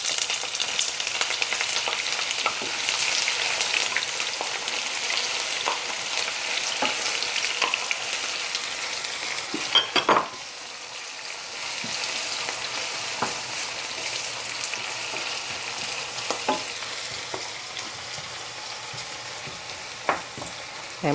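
Onion and garlic sizzle in a hot pan with a continuous crackling hiss, close and steady, broken by occasional stirring clicks and a brief louder scrape midway.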